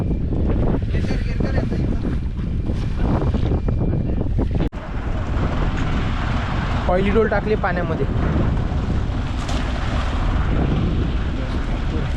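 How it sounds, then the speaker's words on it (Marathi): Strong wind roars and buffets the microphone continuously on a deep-sea fishing boat, with waves and the boat's rumble beneath and a voice speaking briefly through the gusts. "वारा जाम आहे"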